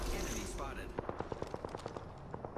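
Rapid gunshots in Apex Legends ring out in a fast, fairly regular burst of about a dozen sharp cracks, following a brief stretch of talk and game noise.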